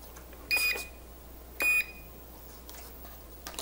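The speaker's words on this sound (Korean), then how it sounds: "전원 버튼을 놓는다라고 하면 삐 소리가 나고 육축 자이로가 잡히는 소리가 나거든요" Two short electronic beeps from an Eachine Mini Mustang P51D RC plane with six-axis gyro as it powers on, about a second apart, clear and close with quiet between.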